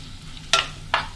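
Quail egg roast stirred in a pan, with two short bright scrapes of the spoon rising over a low, steady sizzle.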